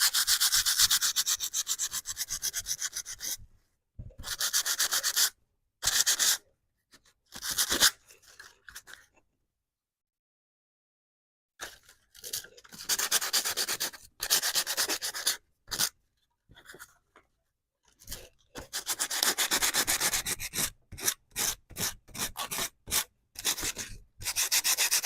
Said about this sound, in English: I like the sanding paper much better